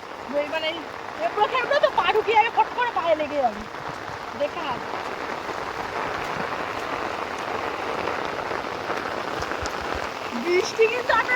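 Heavy monsoon rain pours down in a steady dense hiss, loud and close, while people talk over it at the start.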